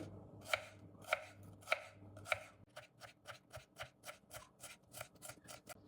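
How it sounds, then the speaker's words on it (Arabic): A knife finely chops an onion on a cutting board for lentil soup, four sharp spaced cuts followed by a quicker, steady run of lighter chops, close and clear with no talk. "أول اشي عندي بصلة فرمها ناعم"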